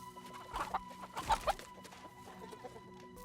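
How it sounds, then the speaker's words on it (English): A chicken clucks in a film scene as it runs away scared from a man trying to pet it, a few quick flustered clucks bunched in the middle, fairly soft against quiet background ambience, with no talking. "trying to pet a chicken as it runs away scared"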